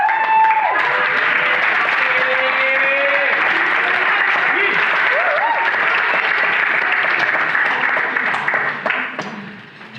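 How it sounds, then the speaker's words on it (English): A packed room at a sold-out poetry show breaks into sustained applause from the audience, loud and steady for about nine seconds before tapering off, with a voice heard briefly over the clapping. "can I please have a round of applause for every single one of you that's in"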